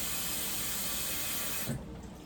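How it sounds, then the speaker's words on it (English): Tap water runs steadily onto fruits and vegetables in a sink, a loud close rushing flow that cuts off abruptly near the end, leaving a faint background. "I'm going to put some more water on there"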